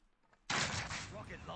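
A rocket launches in a video game with one abrupt loud roaring whoosh that stays loud for about a second after a quiet start, and a voice is heard faintly.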